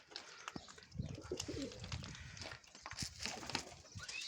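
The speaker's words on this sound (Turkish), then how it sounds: "Güvercinleri bakmaktayız." Pigeons, including tumblers and rollers, coo repeatedly, close by, with shuffling, scratching and faint clicks around them in a busy coop on a farm.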